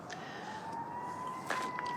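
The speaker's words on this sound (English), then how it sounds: "Forgive the sirens in the background. I live just a mile from the fire station." Emergency sirens from a nearby fire station, a steady faint wailing tone held far off behind quiet garden ambience with a few soft clicks, no talk.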